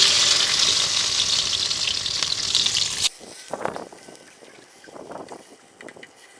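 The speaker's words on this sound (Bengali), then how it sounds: "সরিষা তেলের ভিতরে এই যে সরিষা দিয়ে মাখানো ইলিশগুলো দিয়ে দেব।" Hilsa fish coated in mustard paste hits hot mustard oil with a loud, hissing sizzle that cuts off sharply halfway, leaving quieter crackles and clatter.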